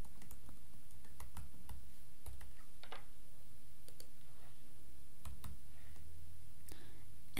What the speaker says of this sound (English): type in the folder name that you made